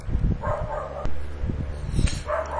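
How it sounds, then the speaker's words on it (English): A dog barks in a string of short, fairly close woofs and yips, with brief whimpering sounds between the bursts, heard alone without talk. "Even my dog says so, if you can hear them barking in the background."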